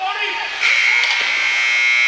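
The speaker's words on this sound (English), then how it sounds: "Buzzer will ring." Ice hockey period-end buzzer at a high school game between Kearsarge/Plymouth and Pembroke/Campbell, a loud sustained electric drone starting after a moment of commentary and holding steady to the end.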